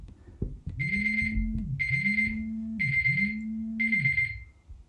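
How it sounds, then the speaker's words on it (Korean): An alarm clock goes off indoors during a lecture, ringing in four regular, loud bursts of bright electronic beeping over a low warbling tone, with no one speaking over it. "내가 알람을 맞춰놓고 내가 놀랐어요"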